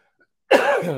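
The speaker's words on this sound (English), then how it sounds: "I still got the laughing cough, man." A man's laughing cough, a rough, harsh burst that starts suddenly halfway through after near silence and holds loud, with throaty rasping to the end.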